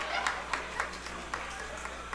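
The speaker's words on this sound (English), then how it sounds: "By round of applause, how many broke people?" A crowd applauds at a live comedy-style show, with a dense wash of clapping broken by regular sharp clap bursts. A voice murmurs faintly underneath.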